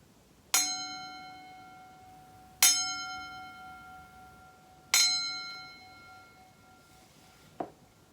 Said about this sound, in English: is that bell sound pleasant, unpleasant, or neutral?